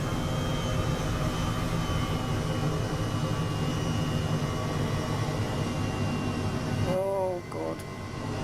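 A helicopter flying in Microsoft Flight Simulator over Africa's Okavango Delta, a loud steady rotor and engine drone with a dense low hum throughout, dipping briefly near the end as a voice speaks over it.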